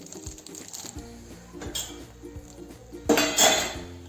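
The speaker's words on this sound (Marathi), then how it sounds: "ही झाकणी काढते आणि आता यामध्ये आपण जे शेंगदाणे तळून घेतलेले होते ते शेंगदाणे घालते" A pan lid is lifted and fried peanuts are tipped into upma cooking in the pan, giving a series of light metallic clinks and taps followed by a brief louder rattling clatter near the end, close and quiet.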